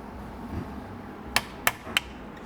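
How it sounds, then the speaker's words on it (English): Three sharp metallic taps in quick succession, about a third of a second apart, as a tight alignment dowel is tapped into a transmission, close and clear over a quiet background, no talking. "This dowel right here is super tight, so I'm just going to tap it to get it started."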